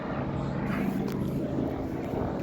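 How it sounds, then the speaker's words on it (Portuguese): A noisy helicopter flies overhead, a loud, steady low rotor drone filling the scene throughout with no clear break and no voices. "Esse helicóptero é barulhento, hein, mano?"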